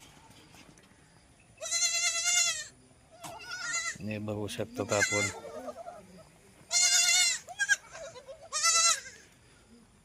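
Goats bleating on a farm during the monsoon, loud close wavering calls in several bursts, with a low-pitched bleat in the middle and a person speaking briefly.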